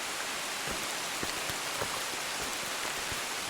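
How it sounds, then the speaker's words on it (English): Steady rain falls on a thickly wooded forest trail in the Smoky Mountains, a dense even hiss with occasional nearby drips and patters and no voices. "the rain's picked up, but not really getting that wet, honestly, because the canopy's so thick"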